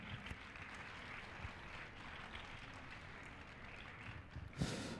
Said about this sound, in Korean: 다시 한번 금관 오중주 팀에게 큰 박수 부탁드립니다.